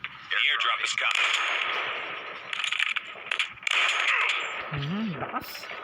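Dense gunfire and explosions from a Call of Duty match roll on almost continuously at high level, with rapid shots and a brief electronic warble near the end.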